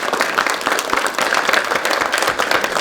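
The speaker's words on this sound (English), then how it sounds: "give him a round of applause, please" Applause from a symposium audience on the Civil War in West Virginia, a steady dense wash of clapping filling nearly three seconds at even loudness with no voices.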